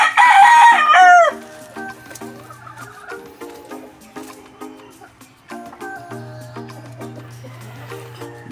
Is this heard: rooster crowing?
yes